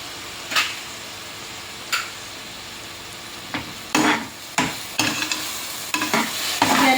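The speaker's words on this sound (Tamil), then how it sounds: "நம்ம நல்லா கிளறி விட்டுக்கலாம்" Chickpea biryani masala stirred and fried in a pan, with a soft steady sizzle under a series of sharp spoon scrapes and clacks against the pan that come closer together toward the end.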